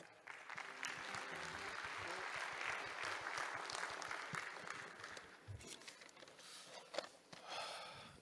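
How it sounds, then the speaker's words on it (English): Audience applause fills the hall at the opening of the 29th annual TCTAP 2024 conference meeting, a steady, dense clapping from a large crowd that holds throughout with a few louder claps near the end. "please welcome him with a big round of applause"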